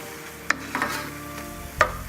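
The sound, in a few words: stirring basil into cooked tomatoes and vegetables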